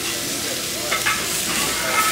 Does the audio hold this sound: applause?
no